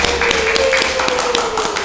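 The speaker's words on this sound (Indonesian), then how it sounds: "Beri tepuk tangan yang meriah" Classroom applause from a group of schoolchildren, brisk uneven hand claps in a busy, lively room, close and steady, with a faint high tone running underneath.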